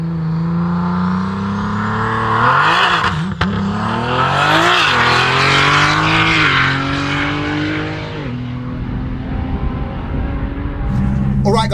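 A 1400bhp BMW launches on a track, its engine revving hard and climbing through rising pitch sweeps with a brief gear-change break, loud and close, then settling to a lower drone as the run eases off.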